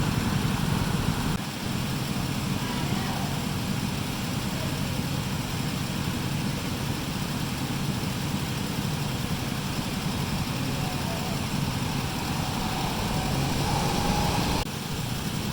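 Slick track race cars run around a go-kart style track at a sports park, their engines a steady, continuous drone at moderate distance that holds without breaks throughout, with no talk over it.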